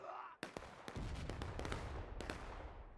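Musket fire from Civil War sharpshooters in the game War of Rights at School House Ridge: several sharp cracks spaced irregularly over a continuous battlefield rumble, some close and loud, others more distant.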